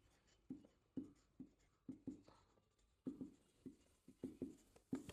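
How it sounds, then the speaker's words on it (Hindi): Marker handwriting on a board during a lesson, a series of soft, close strokes and taps at an uneven rhythm, fairly quiet with no talking over them. "मैं यहां पर लिख देता हूं"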